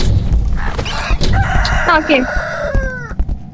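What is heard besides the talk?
chicken clucking in the Roblox game Deadly Delivery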